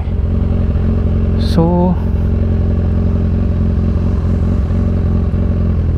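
A motorcycle engine drones steadily nearby on a road near Agos Farm in Albay, with someone talking briefly over it.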